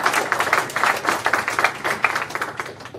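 Conference audience applauding, a brisk, fairly close patter of many hands clapping in uneven bursts for a few seconds with no voices over it.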